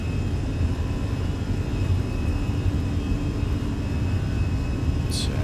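An Airbus A320 in the Fenix flight simulator rolls down the runway for takeoff, its engines giving a steady, loud, broadband roar that stays constant throughout with no talking.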